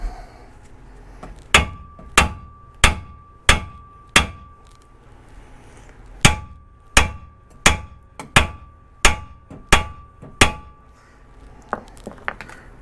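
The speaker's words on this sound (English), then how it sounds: "we're going to be swinging the hammer." A hammer strikes metal during work to raise a vehicle's sagging front suspension, about a dozen sharp ringing clangs in steady, evenly spaced groups with a brief pause in between, close and loud against a quiet background.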